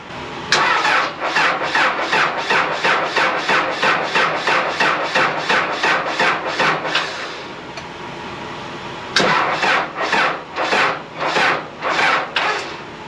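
Tractor engine cranking without catching, a loud rhythmic starter chug in a long run of repeated strokes, a pause, then another shorter burst of cranking that also fails, close and without speech.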